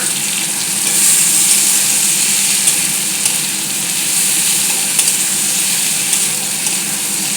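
Vegetables fry in a hot pan after tomatoes, sizzling loudly and steadily up close, with occasional scrapes and clicks of stirring and no talking.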